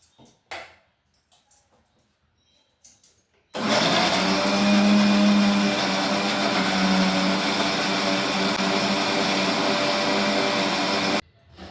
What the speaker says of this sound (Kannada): ಇಷ್ಟನ್ನೆಲ್ಲ ಸೇರಿಸಿ ಇವಾಗ ಮಿಕ್ಸಿಯಲ್ಲಿ ನುಣ್ಣಗೆ ರುಬ್ಕೊಳ್ತೀನಿ